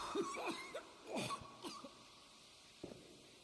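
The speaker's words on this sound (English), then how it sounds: "I know I'm coughing and gonna maybe die" A person coughs in a short cluster of rough, throaty bursts, then falls quiet before one last faint cough. The coughs are close and moderately loud, with no talk over them.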